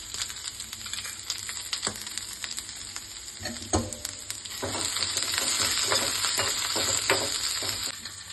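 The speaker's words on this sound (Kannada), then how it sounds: "ಈರುಳ್ಳಿ ಚೆನ್ನಾಗಿ ಸ್ವಲ್ಪ ಬ್ರೌನ್ ಕಲರ್ ಬರೋವರೆಗೂ ಚೆನ್ನಾಗಿ ಫ್ರೈ ಮಾಡ್ಕೊಂಬಿಡಿ" Steady oily sizzling of onions frying in a pan, with occasional scrapes and stirring clinks, growing louder and denser toward the end.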